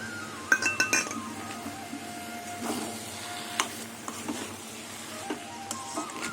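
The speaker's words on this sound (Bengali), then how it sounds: "এবার আমি ভাজা চিংড়িগুলো দিয়ে দেবো" Fried shrimp tipped into a pan for a taro (maan kochu) and fried onion dish, giving a light sizzle under clinks and scraping stirs of a utensil against the pan, with close, intermittent sharp knocks.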